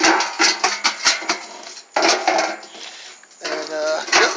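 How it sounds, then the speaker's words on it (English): Burned-through hickory wood chips are dumped into a metal pot, giving a burst of clattering, rattling impacts, then a pause and two more rattling pours, close and fairly loud. "you want to dump out the existing burned through chips into something metal. A metal pot, metal pan"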